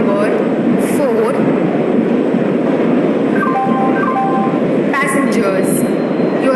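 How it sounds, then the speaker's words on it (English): Train pulling into a station platform in an Indian railway video game, a steady loud rumble of rolling wagons with occasional horn-like tonal notes and brief squeals, continuous throughout. "Train number 12655 Passenger Express is arriving at platform number"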